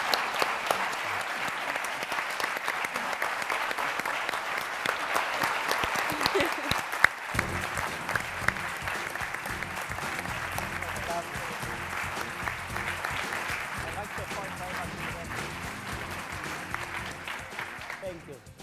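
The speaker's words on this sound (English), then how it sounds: "let's give a round of applause to our panelists" A large forum audience gives panelists a long, steady round of applause, many hands clapping continuously throughout, with a voice speaking over the clapping partway through.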